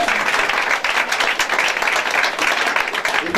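Congregation clapping at a prayer gathering, dense close applause with quick rhythmic claps throughout, loud and steady over the whole stretch with no voice standing out.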